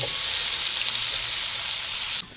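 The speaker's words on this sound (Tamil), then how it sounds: "வெட்டி வச்சு வெங்காயத்தை சேர்த்தாச்சு இதை நல்லா கொஞ்சம் நேரம் ஃப்ரை பண்ணிக்கலாம்" Onions fry with mustard seeds in a pan for an egg masala, making a loud, steady, close sizzle and hiss that cuts off abruptly near the end, with no talking.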